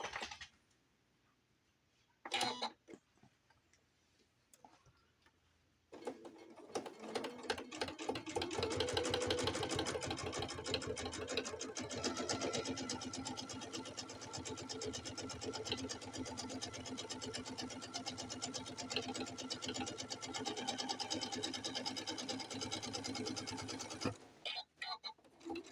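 Sewing machine stitching the final seam of a welcome banner, a steady rapid mechanical chatter running close and loud for about twenty seconds after a few brief handling knocks, then stopping abruptly.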